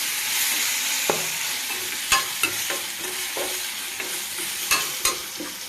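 Raw banana slices with green chili paste fry in hot oil in a pan, a steady bright sizzle broken by occasional clinks and scrapes of a stirring spoon, close up, with no voices.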